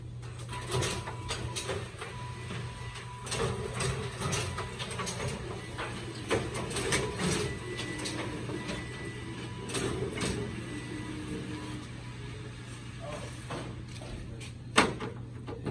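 A Plockmatic 5010 booklet maker stitches and trims sheets: steady machine hum with repeated mechanical clicks, thumps and a sharp clack near the end, close and moderately loud.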